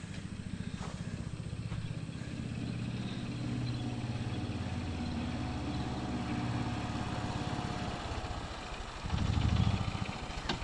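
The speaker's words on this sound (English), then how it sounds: "Z-Man riding on the golf cart" A golf cart engine chugs with a steady, rattling low putter at moderate distance, continuous throughout with a brief louder surge near the end.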